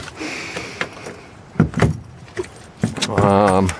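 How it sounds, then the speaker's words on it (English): A set of two keys on a quick-disconnect ring jangles and clinks around a drop-in truck-bed camper, in short metallic bursts between handling thumps, with a louder rattling jingle near the end. "I do use a set of 2 keys with a quick disconnect"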